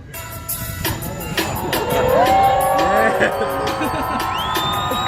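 Cars at the Paul Walker memorial ride in Québec, Canada start their engines and rev together, loud and close, with a crowd and voices mixed in.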